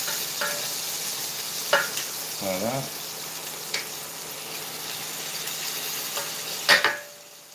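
Confit duck legs in a pan sizzle steadily as they are shifted around, with a few clinks and scrapes of a utensil against the pan and a brief spoken word near the end.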